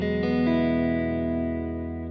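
Plate reverb from a Universal Audio Golden Reverberator guitar pedal, giving a fat, bass-heavy sustained electric guitar chord with two quick restrikes near the start, then a smooth, steady decay ringing on alone.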